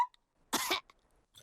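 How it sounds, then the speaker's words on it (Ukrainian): A cartoon piglet-world character coughs once in a short, sharp burst from a sick, contagious cold, close and loud, with faint rustles before and after. "кашель у Педро такий заразний"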